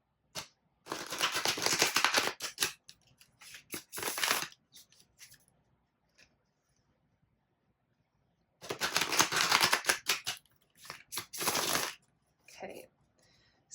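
Two bursts of rapid, crisp tarot card shuffling, each lasting a few seconds, separated by quiet with soft clicks and handling taps between them.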